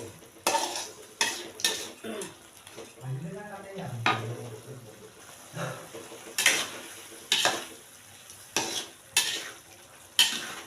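Shrimp stir-fried in a pan with peanuts to come gives a series of loud scraping, clattering spatula strokes and a soft sizzle, the strokes coming in irregular bursts, with brief talk near the middle.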